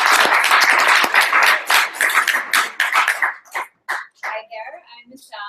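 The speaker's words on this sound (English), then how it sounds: "Give them a round of applause." Audience applause at a startup pitch competition, a burst of clapping from a crowd that fades after about three seconds into scattered claps and faint murmurs.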